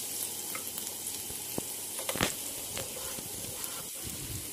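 Chopped garlic and ginger sizzle steadily in hot mustard oil in a frying pan, a dense crackling hiss with a few sharper pops and stirring scrapes, close and alone with no talk.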